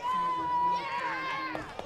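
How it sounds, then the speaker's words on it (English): Students hollering and cheering in the stands at a varsity high school football game, a steady crowd roar with individual shouts rising above it, fairly near, with a voice over the top. "the amazing students right in front of us doing a great job hollering and cheering"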